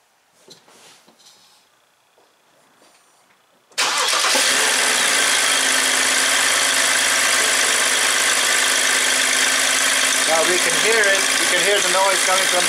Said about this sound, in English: hear the noise coming from the exhaust.